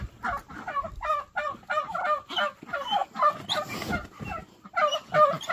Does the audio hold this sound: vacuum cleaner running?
no